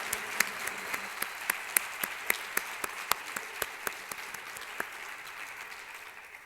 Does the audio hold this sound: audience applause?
yes